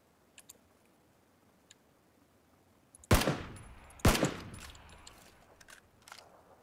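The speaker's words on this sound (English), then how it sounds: "There's more shots to my right as well." Two sharp, loud gunshots about a second apart in the video game PUBG, each echoing and tailing off, with faint distant shots and clicks before and after.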